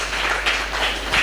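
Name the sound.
applause for two fighters at a press conference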